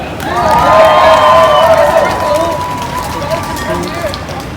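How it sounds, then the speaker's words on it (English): An outdoor protest crowd in Leeds claps and cheers for a speaker, a dense, steady roar with raised voices carrying over it, swelling then easing off across the few seconds. "Everybody, one more time, round of applause for Sister Aya"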